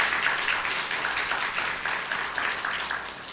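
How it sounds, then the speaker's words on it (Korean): Steady applause from a church congregation during a Sunday morning service, a dense wash of clapping that holds throughout without rising or falling much. "여러분들 감사의 박수 하시기 바랍니다."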